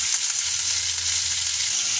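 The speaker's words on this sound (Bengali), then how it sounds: "এখন আমি পনিরটা ভেজে নিচ্ছি, এরপরে ক্যাপসিকামটা ভেজে নিচ্ছি।" Paneer and capsicum fry in a pan with an even, close crackling sizzle that holds steady and alone for a couple of seconds.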